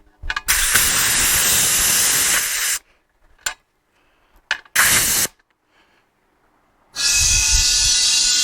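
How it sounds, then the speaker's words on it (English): Compressed air filling a portable tire inflator tank: loud, close bursts of hissing air, one long blast, a short puff, and another sustained rush after a pause. "So you fill it with compressed air."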